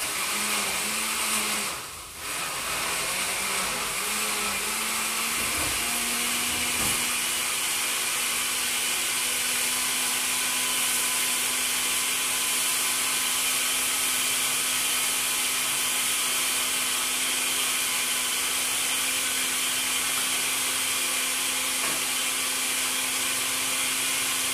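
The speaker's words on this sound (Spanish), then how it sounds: "vámonos a licuar nuestra salsa" A blender runs steadily at high speed, puréeing green salsa made with chicharrón, a continuous loud whir that holds for the whole stretch after a brief dip near the start.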